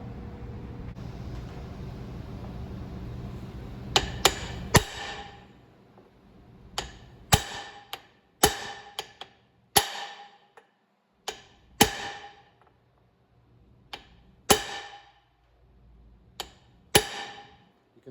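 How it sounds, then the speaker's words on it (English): Sharp metal hammer blows on a socket set over a U-joint on a 2008 Toyota Tacoma, driving the cap out; a steady run of single and double strikes spaced about a second apart, close and ringing. "Or you can take a socket which is big enough that you can place on here and you can hammer that."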